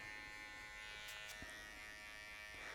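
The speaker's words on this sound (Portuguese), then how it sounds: "trabalho com o cantinho da máquina" An electric hair clipper blends a buzz cut fade at a barber's chair, a faint steady motorised hum with slight changes as it works the hair, no talking.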